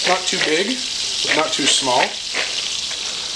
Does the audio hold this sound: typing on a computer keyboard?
no